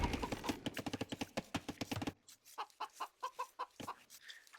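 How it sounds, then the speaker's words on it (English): Chickens in a strategy video game cluck in a quick run of sharp, evenly spaced clicks, followed by a few sparser, louder clucks with short gaps of quiet between them. "Chickens."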